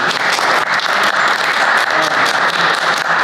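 An audience at a community discussion on veterans' services gives a round of applause for the speaker's mom, loud, dense clapping that continues evenly and close throughout.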